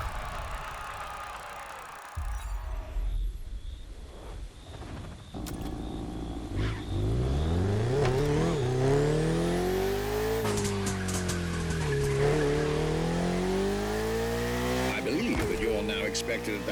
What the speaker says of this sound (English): This was the F50, a sports car that screams performance and racing spirit with every fiber of its being.